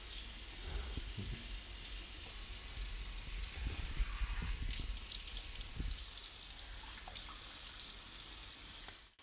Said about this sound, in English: I think I'm gonna brush my teeth and wash my face to wake up a little bit